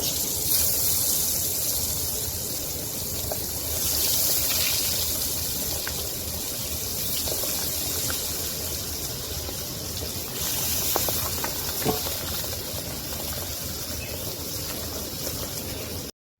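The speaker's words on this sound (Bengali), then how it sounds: "আমার মাছ ভাজা হয়ে গেছে" Pabda fish fry in oil in a wok, a continuous bubbling hiss that holds at moderate level for the whole stretch, broken only by a few small pops and crackles and with no talking.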